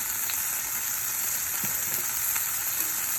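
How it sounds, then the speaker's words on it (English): Vegetables sauté in a hot pan, giving a steady, dense sizzle with occasional soft stirring clicks, close and continuous, with no voices. "So I'll just saute these real quick and then we'll get ready to plate"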